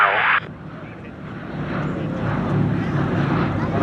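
A P-51D Mustang reverses left over Sywell Airshow 2024, its engine a steady, broad roar building slightly across the few seconds, with faint voices in the background.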